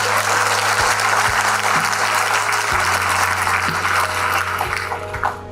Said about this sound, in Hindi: सब इस लगाव के लिए, इस अटैचमेंट के लिए बढ़िया से ज़रा जोरदार तालियां बजाएं।